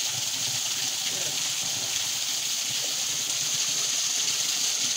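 Water gushes without pause from a pipe fed by a mountain waterfall and run without an electric motor, a loud, steady hiss of splashing flow, with voices faintly heard over it.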